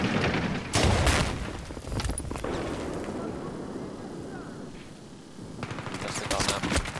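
Bursts of video game gunfire crackle in rapid volleys, loud at the start and again near the end, with a quieter stretch of lingering rumble between.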